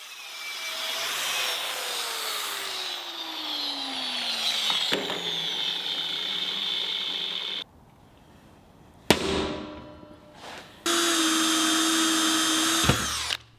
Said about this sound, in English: I drilled and tapped holes for the faceplate and dowel of the lock